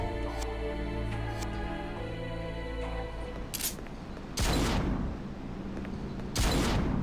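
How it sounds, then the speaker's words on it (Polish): Single shots from the Spiral rifle in Devil May Cry 3, with three sharp, loud blasts at intervals and a sustained droning tone beneath them at first. "A, to jest taki pojedynczy strzał"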